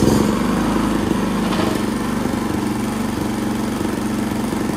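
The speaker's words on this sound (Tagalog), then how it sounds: "Testing muna natin yung generator natin kung okay na" PK4200 generator engine running after a carburetor cleaning, a steady close buzzing drone with an even rapid firing rhythm and no breaks.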